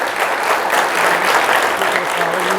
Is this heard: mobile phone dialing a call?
no